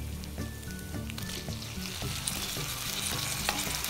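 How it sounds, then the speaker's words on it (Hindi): Chopped tomatoes and onions frying in a pan over a medium flame, a steady close sizzle with soft stirring taps throughout, no talking. "थोड़ी देर फ्राई करेंगे जब तक टमाटर गल जाए"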